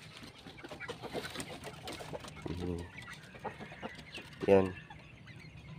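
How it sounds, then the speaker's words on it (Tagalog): Two chickens in a cage clucking in short nearby bursts, with a louder cluck near the end and a person speaking briefly. "So dalawa sila mga kapanok dito na kulungan."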